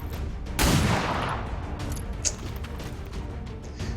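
Pistol shot in the turn-based video game XCOM 2, one sharp close blast followed by a fading rumble tail, then quiet game ambience.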